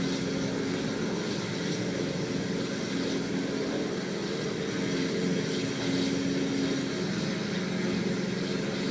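A Bf 110C aircraft engine drones steadily in flight in the Birds of Steel video game. The constant, loud hum runs unbroken throughout with no voices.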